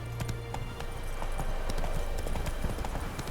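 In the video game Witcher 3, a horse's hooves clip-clop at a quick, steady pace, close and prominent throughout, with a faint hint of a voice.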